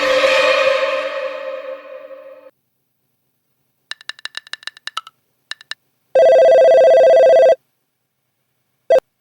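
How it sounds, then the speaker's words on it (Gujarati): A phone call goes out: a falling dial chime, then a quick run of short electronic beeps and a long steady ringback tone, each loud and separated by silence. "તો હું જયંતિભાઈને એક વખત ફોન કરું."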